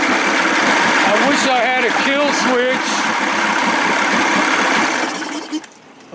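A 55 hp Evinrude outboard engine runs at a steady loud idle, then is choked out and sputters to a stop near the end; someone talks over it.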